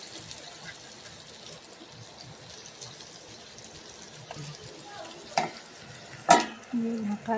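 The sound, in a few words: semolina pieces frying in a pan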